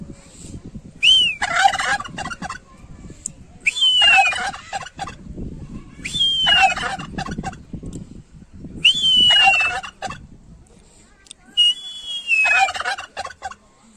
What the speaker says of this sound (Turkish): Aynı hindiye geldik yine.